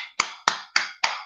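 Four sharp, evenly spaced claps from a group clapping in unison, about a quarter second apart, loud and close with no talking.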